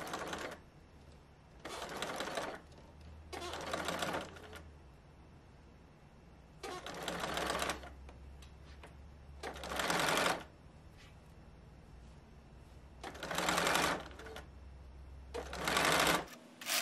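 A sewing machine stitches a rolled hem at its longest stitch length, running in several separate bursts of steady mechanical whirring and clatter, each lasting a second or two, with quiet pauses between them.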